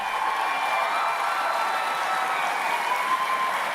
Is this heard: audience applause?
yes